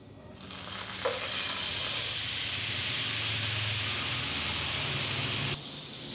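Teriyaki sauce hits a cooled pan with a steady broad sizzle, stirred throughout, then the frying hiss cuts off near the end.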